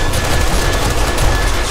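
Loud, dense rapid gunfire in the survival video game 7 Days to Die fills the whole moment as a continuous fusillade.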